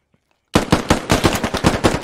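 Rapid automatic gunfire rings out in the video game Squad, a sudden close burst of about ten evenly spaced, sharp shots following a moment of near silence.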